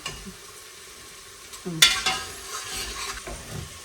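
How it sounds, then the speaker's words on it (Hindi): Masala for rajma sizzles and fries in a pan while a spoon stirs and scrapes through it, with soft clinks and a few louder scrapes over a steady frying hiss. "मसाला मेरा बहुत अच्छा हो गया है, अभी मैं इसको भी थोड़ी देर भूनूंगी"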